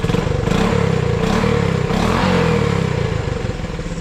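Honda CT110 Postie motorcycle with a new exhaust, engine revving up and down close by, a loud, throbbing single-cylinder putter with slight rattle.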